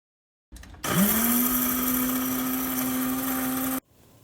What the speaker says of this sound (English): Then transfer it to a coffee grinder.